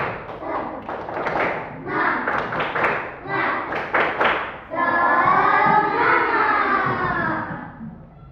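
An Indonesian school class performs the rhythmic tepuk semangat clapping chant, bursts of group claps in patterned beats for several seconds, then the children's voices swell into a loud sustained shout together before fading.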